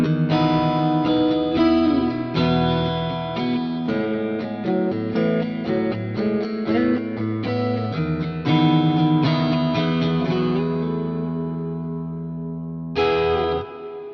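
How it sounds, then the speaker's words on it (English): Electric guitar played through a doubler effect at its default 6-millisecond setting, strumming thick, layered chords in a loud, continuous run that rings out and fades before one final strike, with no voices. "we then have the doubler, and bringing that up and engaging it with the default setting of 6 milliseconds sounds like this"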